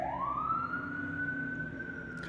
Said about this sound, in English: I'm going to start counting how many sirens I hear a day